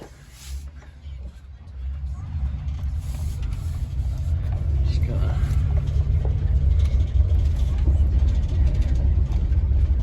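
A 2007 Roadtrek Popular 210 motorhome pulls away and drives, its engine and road rumble building steadily from low to a loud, continuous drone after the first couple of seconds.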